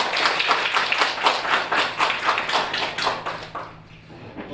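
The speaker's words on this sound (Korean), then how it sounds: "이상남 선생님께 한번 박수 부탁드리겠습니다" A small forum audience in Iksan claps in quick, fairly even beats for a few seconds, then the clapping thins out and fades near the end.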